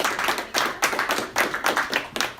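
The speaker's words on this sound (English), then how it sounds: "I'd like to give you a round of applause for being here" A small group of people claps for visiting guests at a business networking meeting, close and uneven, with distinct bursts of hand claps rising and falling in loose rhythm rather than a dense roar.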